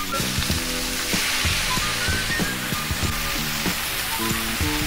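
Squid hits a hot pan among softened vegetables for a Korean squid stir fry, sizzling loud and steady up close, with repeated clinks and scrapes from stirring.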